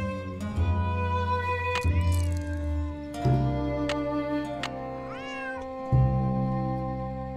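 In a Nancy Drew mystery game, a cat meows repeatedly, with several separate drawn-out, rising calls spaced a second or so apart, heard close and clear over a soft background.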